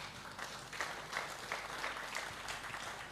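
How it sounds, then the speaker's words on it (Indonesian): Audience applause after a recital about the keris, steady but fairly soft and somewhat distant, with no voices over it. "Boleh tepuk tangan."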